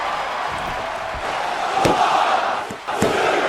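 Arena crowd roaring during a women's wrestling match in a WWE 2K video game, a loud sustained crowd noise broken by several sharp slams from the ring.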